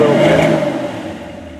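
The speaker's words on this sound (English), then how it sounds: "rev it up a little bit" Engine of a carbureted 1984 Chevy C10 pickup with an LS swap, running cold and slightly out of tune: a single brief rev swelling up close, then settling and fading over under two seconds.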